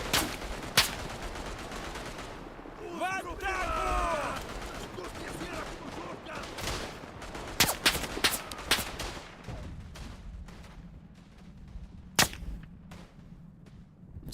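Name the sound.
gunfire in Tannenberg video game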